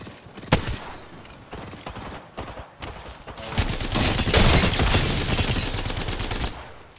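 Gunfire in the shooter game Apex Legends: a few sharp separate shots, then a loud, sustained rapid volley of automatic fire that keeps rattling to the end.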